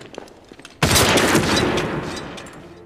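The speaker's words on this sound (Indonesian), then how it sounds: "Kolikov tertembak headshot oleh Mayor Koenig." Gunfire in a World War II sniper war film, a sudden loud burst of rapid shots that rings on and decays over a couple of seconds.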